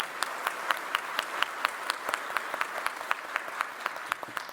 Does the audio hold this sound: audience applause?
yes